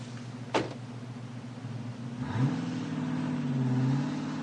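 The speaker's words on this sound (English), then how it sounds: "watched the car disappear down the drive into the woods" A car pulls away down a drive into the woods, its engine humming steadily before revving up and rising in pitch as it moves off, with a brief sharp sound early on.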